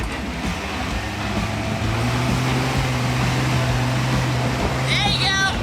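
Hummer engine pulling hard up a muddy off-road hill, a loud steady low drone that rises in pitch and strains partway through, with people talking over it and a sharp burst of noise at the end.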